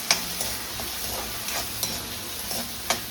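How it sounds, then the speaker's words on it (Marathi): Tomatoes sizzle in a hot pan for dal ki chhadi while a spoon stirs them, giving a steady fry with several sharp scraping clicks at irregular intervals, close and fairly loud, with no talk. "आणि टमाटर. त्याला हलवून घ्यायचं."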